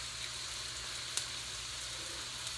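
Food sizzling in olive oil in a pan over heat being turned down to medium, a steady, soft frying hiss with a faint clink near the middle.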